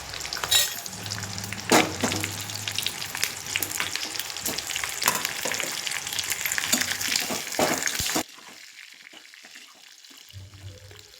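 Bell peppers fry and sizzle in hot oil tempering, with scraping stir strokes and clatter up close, then the sizzle cuts to a quieter hiss near the end.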